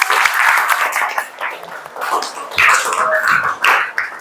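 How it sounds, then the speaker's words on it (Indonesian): A class of children applauds loudly and close by, a dense patter of clapping hands that swells and dips over several seconds, with young voices calling out through it. "Tepuk tangan untuk kita semua."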